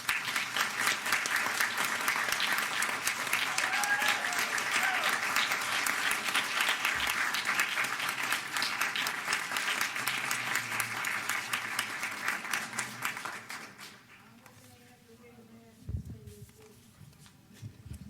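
Audience applause for the Northeast High students, dense sustained clapping from a crowd for about thirteen seconds before it fades out to a quiet room.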